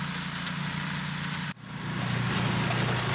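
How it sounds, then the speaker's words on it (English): A Logic flail mower, a heavy-duty machine used for clearing vegetation, runs with a steady loud engine drone, briefly dipping partway through before settling back into a strong, even roar. "the flail mower is comparatively a much more heavy-duty machine"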